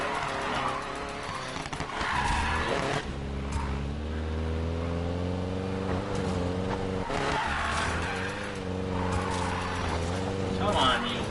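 Tires squeal and skid as a car drifts in a racing video game, a long sustained screech with a revving engine beneath it, loud and steady across the stretch.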